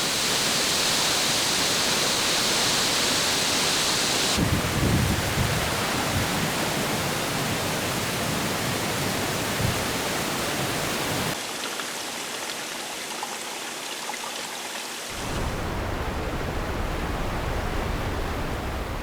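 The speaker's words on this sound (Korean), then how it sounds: "엉또 폭포는 비가 내리자 천둥 같은 굉음과 함께 물줄기를 쏟아냅니다" Eongtto Falls on Jeju pouring after rain, a thunderous, steady rush of falling water that holds as a broad wash of noise, with brief shifts in level partway through.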